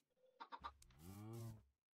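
A sheep in the Minecraft video game bleats once, a short stuttering call that swells into a longer wavering bleat, close and clear, with no talk over it.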